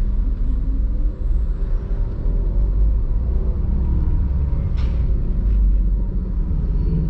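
A Honda Mobilio's engine rumbles low and steady as the car creeps away in first gear through stop-and-go traffic at a red light. Heard from inside the cabin, it is a close, continuous drone with faint outside noises.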